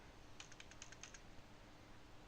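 A quick burst of about eight light clicks from typing on a computer keyboard during a live trading session, faint and close, followed by quiet room tone.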